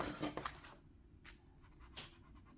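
An eraser rubs out a pencil drawing on paper, giving short, soft scrubbing strokes close by, louder at first and then fainter with a brief pause.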